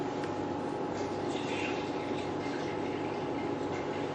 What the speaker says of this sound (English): Okay, now we add the pure water.